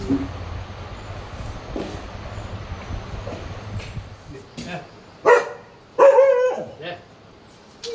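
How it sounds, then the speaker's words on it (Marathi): A dog gives a few sharp barks and yips later on, loud and close, after a stretch of quieter background noise and faint voices. "गौरान जितक्या प्रेमाने कुत्र्याला आपल्या जवळ बोलवत आहे बिस्किट द्यायला"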